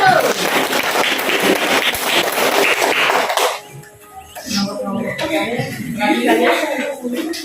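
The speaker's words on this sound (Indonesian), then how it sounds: "Tepuk tangan dulu buat kelompok 1." A classroom of students claps for the first group about to present, a dense, loud patter lasting about three seconds before it breaks off and voices take over.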